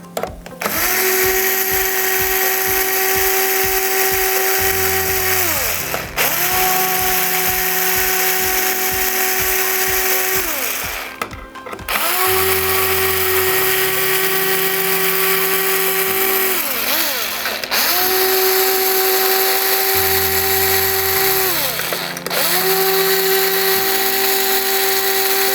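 A power tool unscrews fasteners from the top plate of a Flowcine Tranquilizer, whirring loudly in repeated bursts with ratcheting pitch shifts and brief pauses between screws, close up and with no talk.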